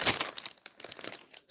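Sheet of Wawa paper crumpled by hand, a burst of crisp crinkling followed by scattered smaller rustles and a final sharp crackle, close and without talk.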